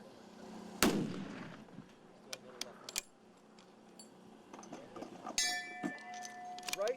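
A single sharp long-range rifle shot cracks loudly near the start, followed by faint clinks and scattered background noises in an open outdoor setting.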